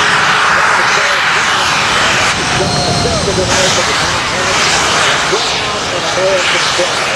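A C-17 Globemaster III jet transport backs up under its own power at the 2017 New York Airshow, a loud sustained jet-engine roar with whining tones, while an announcer talks over it.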